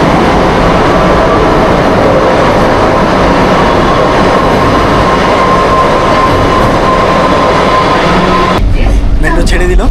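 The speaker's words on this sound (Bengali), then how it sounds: "মেট্রো ছেড়ে দিল" A Kolkata metro train pulls out of a station with a loud, steady rumble and rolling wheel noise that fills the space, shifting abruptly near the end as it gathers speed.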